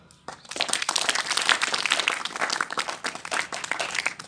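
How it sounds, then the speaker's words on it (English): Audience at a school function in Jaipur applauds a staff member, a dense, sustained patter of many hands clapping that swells after a brief start and carries on steadily throughout. "So a big round of applause for her."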